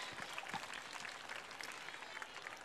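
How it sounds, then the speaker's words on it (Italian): An audience at an outdoor dance recital in Punta Secca claps steadily for a children's dance performance, a faint, even patter of applause from a modest crowd. "Un applauso per favore, se lo meritano,"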